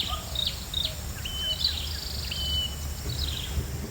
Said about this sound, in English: here it's rather exotic looking hornbills